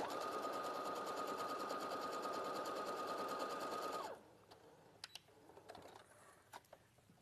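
A sewing machine sews quilt rows together in one continuous close, steady hum lasting about four seconds, then stops, leaving faint clicks and handling sounds.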